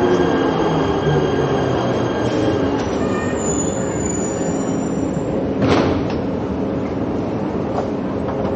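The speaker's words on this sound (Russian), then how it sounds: "Ну видишь, паровоз." A Prague Metro subway train pulls away from the platform with a loud, continuous rumble, metallic wheel squeal and a faint clatter that rises briefly about two-thirds of the way through.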